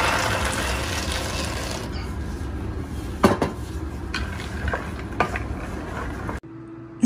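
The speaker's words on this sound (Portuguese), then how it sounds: "eu vou acrescentar 500 gramas do amendoim" 500 g of peanuts tipped into a boiling mixture in a pan for crunchy peanut candy, giving a steady bubbling sizzle with a few sharp clinks of utensils against the pan before the sound cuts off.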